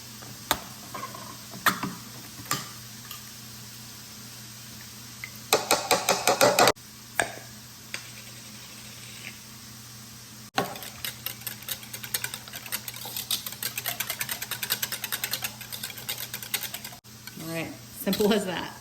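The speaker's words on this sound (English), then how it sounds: "So we're gonna mix these 2 together." Two ingredients, a 12-ounce container's contents among them, being mixed together in a bowl, giving bursts of scraping, clattering stirring with pauses between and a longer steady stretch near the end.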